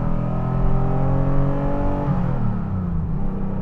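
A TVR Sagaris engine and exhaust rev hard up close, loud and steady with a rising note that drops and settles into a lower drone midway.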